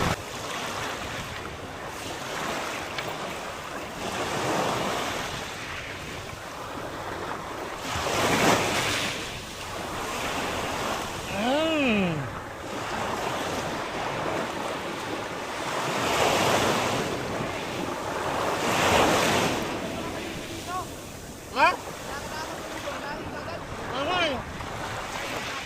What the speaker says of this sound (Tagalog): Susubukan natin ang lakas ng alon mga kapanalig